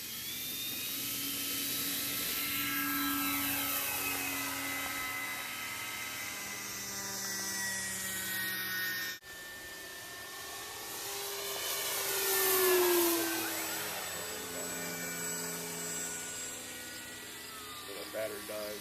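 An FMS 1400mm F6F Hellcat RC model warplane taking off from a grassy hillside, its electric motor whining steadily and rising in pitch as it climbs away, with a brief cut partway through and people talking faintly in the background.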